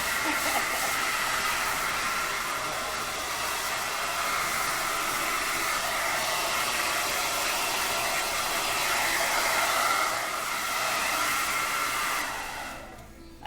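A hair dryer blow-drying a man's freshly scissor-cut hair, a steady loud broadband whoosh running continuously close up before cutting off at the end.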